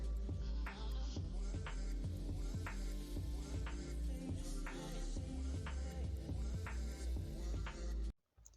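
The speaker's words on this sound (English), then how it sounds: "take it to the same machine to stitch down the side seam allowance." A sewing machine runs continuously while stitching down a side seam allowance on a palazzo jumpsuit, a steady low mechanical hum with regular light clicks that cuts off abruptly near the end.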